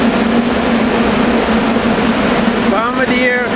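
SEPTA Bombardier push-pull train led by cab car 2405 rushing past in a loud, steady roar with a persistent hum, and a brief voice-like warble rising near the end.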